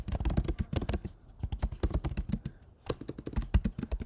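Quick typing on a computer keyboard while entering an assignment title in Microsoft Education software, crisp close key taps in rapid runs with brief pauses, no speech.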